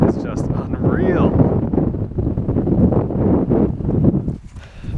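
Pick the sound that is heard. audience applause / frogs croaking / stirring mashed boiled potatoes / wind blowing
wind blowing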